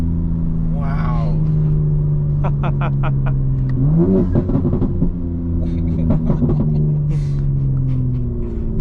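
A 900 hp 2025 BMW M4 Competition xDrive accelerating hard at night, a loud, deep engine roar climbing through revs with a sharp shift step midway, heard from inside under excited voices.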